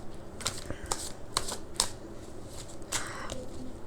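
Tarot cards being shuffled and drawn for a reading, a series of soft, papery riffles and flicks spaced irregularly, fairly close and quiet over a faint room hum.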